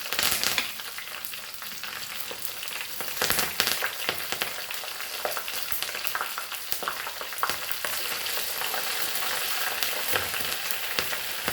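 Spices for Indian dal tadka fry in a hot pan with a continuous crackling sizzle and occasional louder pops and stirring scrapes, close up and without speech.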